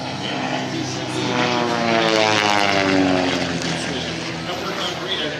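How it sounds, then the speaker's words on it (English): An RV-4 sport airplane from Vance Aircraft performs a hammerhead at the Abbotsford airshow, its propeller engine droning loudly and sweeping in pitch as it climbs and turns. "RV-4 sport airplane designed by Vance Aircraft. There you have the Hammerhead."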